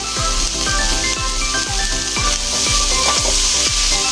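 Spices and boiled potato are sautéed in a pan for vegetarian banana-flower chops, giving a steady loud sizzle with a regular rhythm of spatula scrapes and taps, and no voices.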